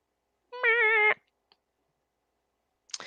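Cat giving a single clear, close meow of about half a second, followed by near silence and a faint rustle at the end.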